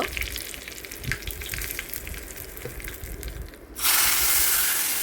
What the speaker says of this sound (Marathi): आता आपण फोडणीची तयारी करूया जिरा टाकूया दोन सुक्या लाल मिरच्या कढीपत्ता हिंग